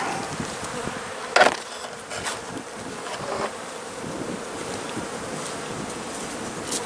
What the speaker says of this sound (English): I can see these bees get nasty pretty quick.